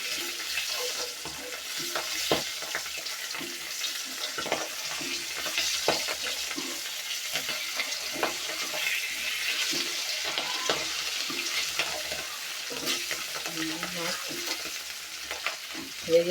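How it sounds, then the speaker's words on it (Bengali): Hilsa fish pieces fry in a pan and get turned over, a steady, moderately loud sizzle dotted with clinks and scrapes from stirring and flipping. "উল্টে দিই মাছগুলো।"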